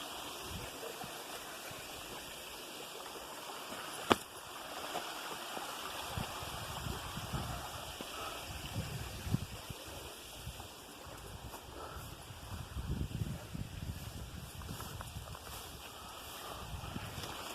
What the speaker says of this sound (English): Ah, it is a waterfall.